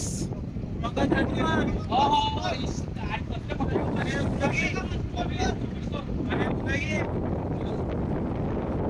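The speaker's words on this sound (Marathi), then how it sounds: "इकडे समुद्रावर थेट वारा येतो" Strong wind roars over the sea and buffets the microphone while people talk beneath it, on a stormy coast in a fishing community.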